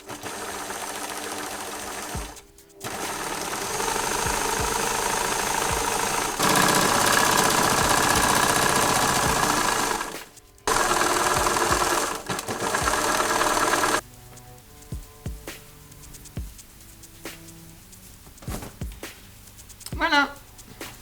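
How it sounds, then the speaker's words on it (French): A sewing machine stitches the side seams of a recycled fabric tote bag in several loud, close, continuous whirring runs broken by short pauses, followed by quieter handling clicks and rustles. "Donc, on va déjà coudre les 2 côtés."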